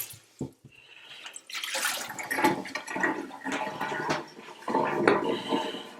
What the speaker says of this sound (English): I just fill up a bowl of water.